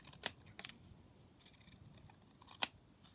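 Scissors trimming the edge of a paper ephemera piece, two crisp snips clearly separated in a quiet room, each a short sharp close cut.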